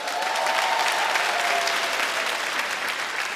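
A comedy club audience applauds steadily at a stand-up show, a dense wash of clapping that holds at even volume throughout the short stretch.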